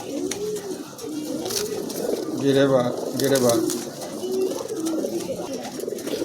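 Domestic pigeons cooing nearby in rolling, repeated throaty calls that swell and fade, with someone talking over them.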